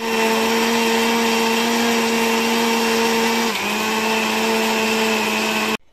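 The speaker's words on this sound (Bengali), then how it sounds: "এবার এই চিনিটাকে আমরা মিক্সার গ্রাইন্ডারে একদম মিহি করে" A kitchen mixer grinder whirs loudly and continuously as it grinds sugar into fine powder, its motor pitch dipping briefly midway before it cuts off abruptly at the end.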